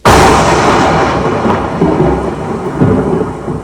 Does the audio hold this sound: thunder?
yes